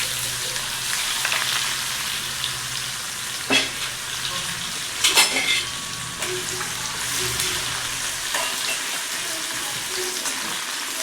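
Finely chopped onion fries in hot oil with cumin and asafoetida, a continuous sizzle broken by a few louder stirring scrapes and splutters, no voices.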